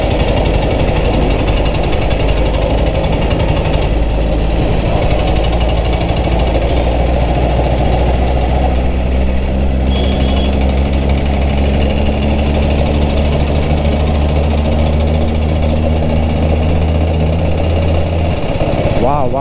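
A 1947 BSA BB31 British motorcycle engine runs loud and close on a test ride, a steady thumping drone with shifting tonal hum and rising pitch as it pulls, continuous throughout.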